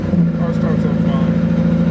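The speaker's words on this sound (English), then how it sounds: "car starts up." A car engine runs loud and steady nearby with a constant low throb, while a voice speaks over it.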